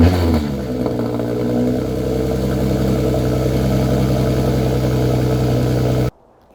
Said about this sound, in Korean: 머플러는 이 스포츠 배기를 안 해도 가변 배기예요.